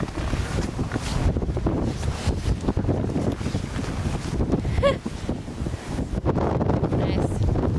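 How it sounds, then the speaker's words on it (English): Wind gusts blowing snow across a driveway during a February 2011 snowstorm, a loud continuous roaring rush buffeting the microphone with brief dips, no talking. "Snow. Blowing snow."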